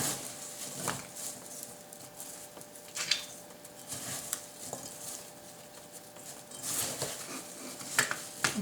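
Sliced apples are tossed with sugar, cinnamon and nutmeg in a bowl for a gluten-free apple crisp, making soft, steady stirring and scraping with a few light clinks of utensil against the bowl, fairly quiet and without talk.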